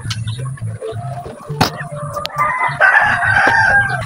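Chickens cluck and a rooster crows in a rural yard in Aklan, with clucking bursts early on and then a loud, drawn-out crow over the hens, all close by.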